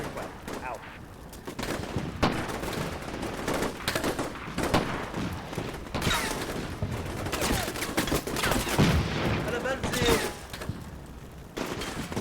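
Gunfire in the military strategy game Combat Mission Shock Force 2 crackles in dense, overlapping bursts and rattling volleys over a continuous rumbling battle din, loud and sustained throughout the clip with a voice in the mix.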